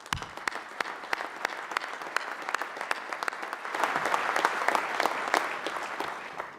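Audience applause at an aviation survivability equipment symposium, distinct individual claps at first that swell into fuller, denser clapping midway, moderately distant.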